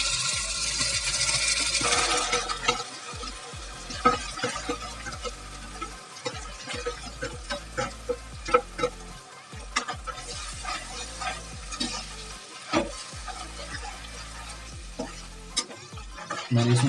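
Onion, ginger and garlic paste fries in a pan with a steady, close sizzle, broken by irregular scraping and stirring clatter throughout, briefly loudest at the start, with no talking.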